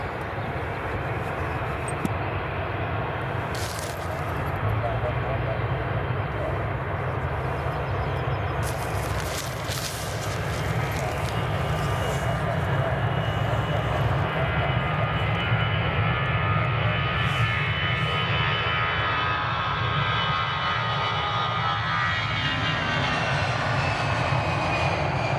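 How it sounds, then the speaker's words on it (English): An EasyJet airliner departing Edinburgh Airport gives a long, continuous jet engine roar, loud and sustained throughout, heard from a distance with no talk. "next up is EasyJet to depart"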